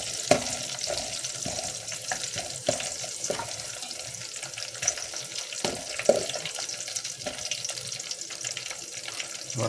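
Onions sautéing in a pan for a South Indian green gram dal, with a steady sizzle and irregular scrapes and clinks of stirring close by, no talking.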